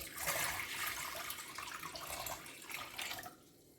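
Tap water runs steadily into a glass measuring cup, six cups of water portioned out for a baked chicken drumstick and rice sauce; a continuous splashing stream that stops abruptly near the end.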